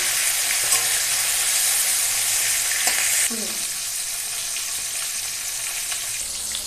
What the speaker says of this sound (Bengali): এই যে মাছগুলো দিয়ে দিলাম মাছগুলো ভাজা হতে থাকুক